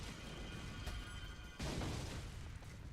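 An explosion in the video game Resident Evil 4 bursts out as a sudden crash with a booming rumble, one sharp impact followed by a sustained roar of debris, heard alone and moderately faint.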